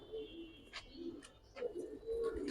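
High flyer pigeons, one pair sitting on eggs, coo softly and repeatedly in low throaty phrases, with a few faint higher chirps in the background.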